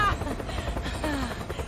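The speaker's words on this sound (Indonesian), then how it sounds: "Setelah Alexei masuk ke dalam helikopter" A helicopter in an action film scene at a snowy prison facility, its steady low rotor rumble running continuously and fairly loud under faint voices.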